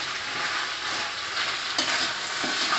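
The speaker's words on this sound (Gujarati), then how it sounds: "ગેસની ફ્લેમ ફાસ્ટ કરી અને એક વખત બધું સરસ રીતે મિક્સ કરી દઈશું" Schezwan potatoes stirred and frying in vinegar over a high flame, a steady close sizzle with brief scraping stirs near the end, no talking.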